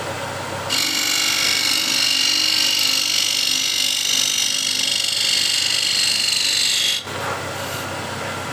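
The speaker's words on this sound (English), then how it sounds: "So we'll try to remove that with a negative rake scraper." A freshly sharpened negative rake scraper cuts into spinning wood on a lathe, a bright continuous scraping hiss starting abruptly and running for about six seconds over the motor's hum before cutting off sharply.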